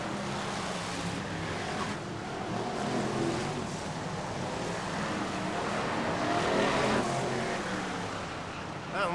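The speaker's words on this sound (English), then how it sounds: "That roar of engines, the blast of power, it can only mean one thing, and that's the Formula One stock cars are here in action at Skegness." BriSCA Formula One stock cars race at Skegness, their engines giving a loud, continuous roar with rising and falling surges as the cars pass, over steady broadband crowd and track noise.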